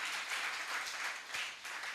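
Steady applause from a summit audience greeting a government minister, a dense, even patter of clapping filling the whole span at moderate loudness.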